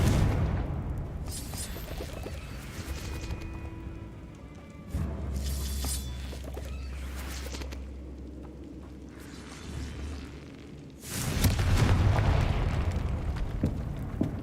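A Confringo fire spell goes off in the game Hogwarts Legacy, with several heavy booming bursts and crackling blasts spread over the stretch, the loudest coming near the end.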